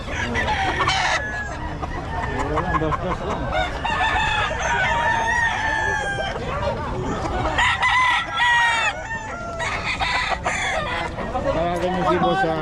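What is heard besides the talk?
roosters crowing and clucking at market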